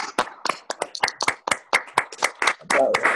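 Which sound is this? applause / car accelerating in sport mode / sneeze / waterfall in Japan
applause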